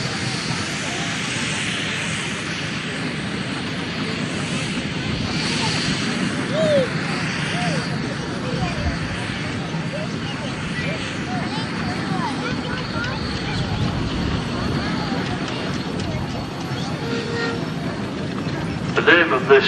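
A Fowler steam traction engine rolls past at a vintage steam rally in a steady, broad rumble with mechanical clatter that holds for about twenty seconds. Crowd and commentary noise mix in.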